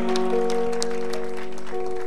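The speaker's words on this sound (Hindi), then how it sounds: "ये जोरदार ताली बजाएंगे।" Applause at a church gathering during gospel preaching, a steady wash of clapping from a crowd lasting about two seconds.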